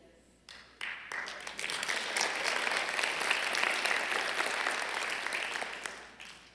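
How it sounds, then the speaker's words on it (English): Audience applause fills the room: a few scattered claps at first, then a swelling, sustained wave of many hands clapping that holds steady before tapering off at the end. "But don't clap too long."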